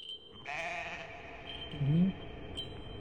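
Sheep bleating in a movie trailer, one clear wavering bleat followed by a lower, shorter bleat, close and distinct over a quiet background with a faint steady tone.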